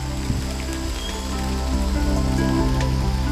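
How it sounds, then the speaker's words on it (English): Steady rain patters down on leaves and ground in a garden, a dense, even hiss of drops with no break. "Do you hear the rain?"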